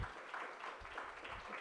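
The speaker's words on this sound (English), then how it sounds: "a very big round of applause to welcome Michelle and her team who have come" An audience at a yoga therapy and Ayurveda workshop inauguration claps to welcome visiting guests, a dense, fairly faint wash of applause that continues throughout.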